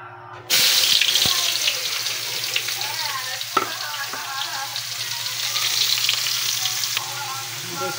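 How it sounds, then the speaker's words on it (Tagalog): Garlic, ginger and onion hitting hot oil in a pan for sautéing, a loud sudden sizzle that starts abruptly and holds as a steady close hiss with a few stirring clicks, a voice speaking softly underneath. "Gisahin na natin ito guys."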